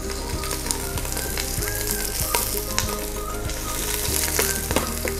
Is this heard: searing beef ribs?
yes